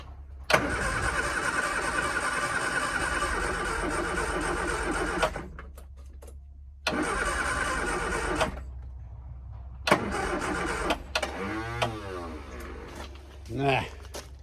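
A Scamp's engine cranks in long grinding bursts while being started with the choke worked by hand, the churning stopping and starting again several times, with a voice speaking between attempts.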